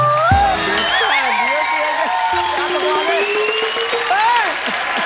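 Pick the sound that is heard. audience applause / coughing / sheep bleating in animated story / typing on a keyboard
audience applause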